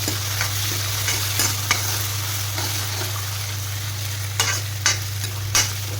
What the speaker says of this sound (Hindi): अब इसके अंदर डालेंगे टमाटर। टमाटर को भी अच्छा सा भुनना है।